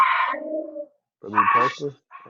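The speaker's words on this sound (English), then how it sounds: "that's my dog" A pet dog barks and yelps in two short bursts in a home, close to the microphone, while a person speaks briefly between the barks.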